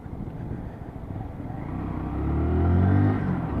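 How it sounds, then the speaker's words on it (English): A Lexmoto Assault motorcycle engine idles with a low, steady rumble that swells slightly in loudness toward the end, close by with no talk. "look at that for an idle."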